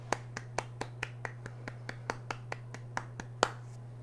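Quiet finger snapping close to a microphone, about sixteen crisp, evenly spaced snaps over a low steady hum, used as a stand-in for applause.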